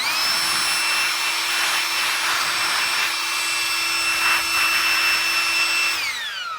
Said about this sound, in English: Just give them a good shot of brake cleaner and blow it off.